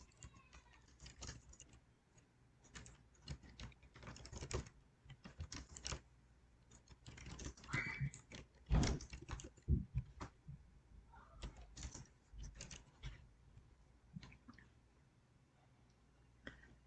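Fingers type a short book description on a computer keyboard in faint, irregular bursts of clicks, with pauses between runs of keystrokes.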